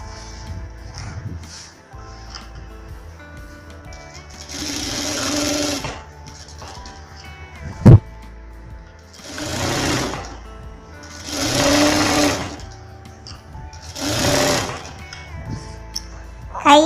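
A sewing machine stitches the lining of a 38-inch-bust blouse, running in several separate bursts of rapid mechanical whirring with quiet pauses between them and a sharp click near the middle.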